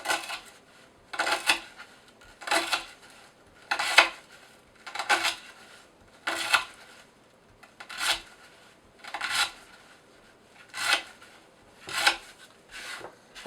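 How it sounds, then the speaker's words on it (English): A Cold Steel Voyager Medium knife with an AUS8A blade draw-slices through rope in a dozen evenly spaced rasping strokes, each a sharp fibrous scrape, close up and alone with no voices. "Now I'm doing draw slices."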